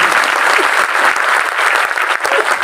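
A crowd at a political speech applauds loudly and continuously, a dense, close wash of clapping with no pauses across the whole stretch.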